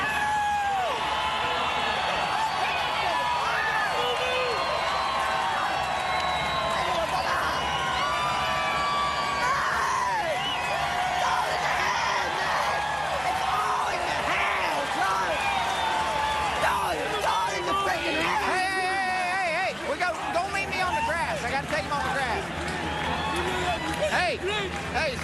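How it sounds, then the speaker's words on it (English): Racetrack fans at the 2009 Kentucky Derby cheer, shout and applaud the winning horse Mine That Bird and his jockey, a dense, loud crowd roar that stays steady throughout with excited voices rising above it. "The fans applauding him."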